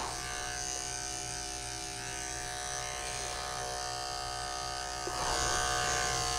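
Electric clippers buzz steadily and close up while trimming around the breastbone of a Maltese dog's coat, a continuous hum that swells louder near the end, with no talking.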